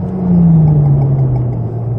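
A car on the Dreux race circuit accelerates hard, its engine a loud close rumbling drone with the pitch sliding slightly downward.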